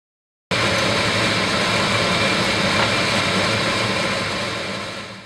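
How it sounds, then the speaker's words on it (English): Air blower running steadily to clear hydrogen bromide smoke from a glass funnel during a chemistry reaction: a loud, continuous broadband rushing roar that starts abruptly and holds constant, easing slightly at the end. "use the air blower to blow out the hydrogen bromide smoke in the funnel"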